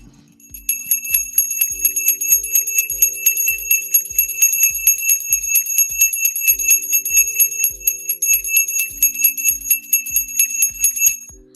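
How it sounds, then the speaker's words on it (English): A bell rings repeatedly in a steady, evenly spaced rhythm, each loud bright strike leaving a ringing tone, continuing alone without speech for the whole stretch. "you made up for it with a minute's worth of bell ringing"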